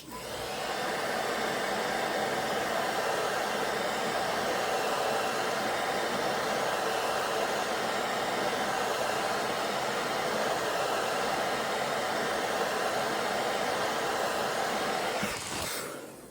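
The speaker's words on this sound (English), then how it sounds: "I'm going to take this blow dryer, we're going to blow dry it" A hair dryer blows continuously at close range, drying paint on a fishing lure, a loud steady whooshing hiss lasting about fifteen seconds before clicking off.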